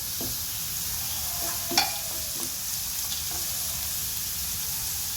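Green chilies and curry leaves sizzle in hot oil with chopped onion for a potato 65 gravy, a steady frying hiss under a few soft stirring taps and one brief clink.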